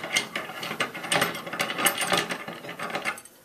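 Parts of a bookbinding sewing frame being unscrewed for storage, close rapid ratcheting clicks and rubbing scrapes of threaded parts turning over a few seconds.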